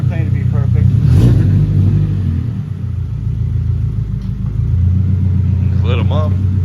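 A car engine revs hard while the tires light up, with a loud close rumble throughout, rising again near the end, and voices talking over it.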